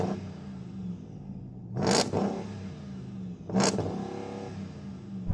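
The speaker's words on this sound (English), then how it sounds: "the speed that this big V8 spins up is quite impressive" A big V8 engine, from a Hummer H2 or Hennessey Mammoth, blips twice in quick sharp revs over a low idle, each rise spinning up fast and falling away, close and loud.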